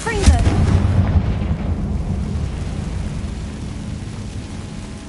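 A Confringo fire spell in Hogwarts Legacy lands as a sharp blast, followed by a deep rumbling roar that slowly fades over several seconds, loud and full.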